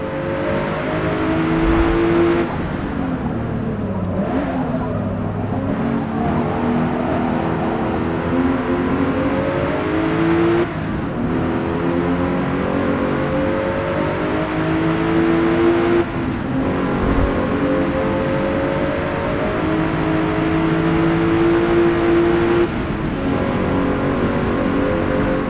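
Race car engine in the Forza Motorsport video game, a loud continuous high-revving whine rising and dropping through repeated gear shifts, close and alone with no talk.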